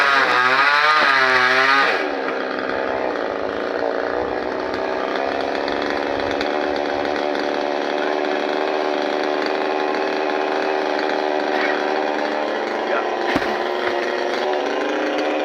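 Chainsaw cutting up a coconut tree, a loud close steady engine whine under load that holds for the whole stretch with no talking.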